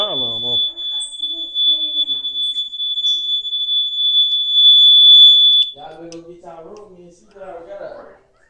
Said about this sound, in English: Gotta get that fire alarm off